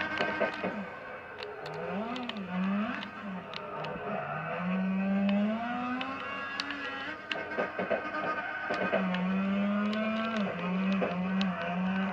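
Mazda RX7 in the driving game CarX Drift Racing Online, engine revving and wavering in pitch as it downshifts while drifting, loud and continuous with brief gear-change dips.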